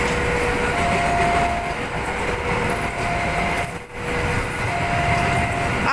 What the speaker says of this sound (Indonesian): Kereta api Ambarawa Express. Itu kereta lokomotif vintage ya.